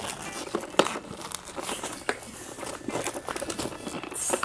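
Plastic wrapping being torn off a storage bin after a small hole is snipped with scissors, a close, quiet run of crinkling, rustling and tearing with a few sharper snaps.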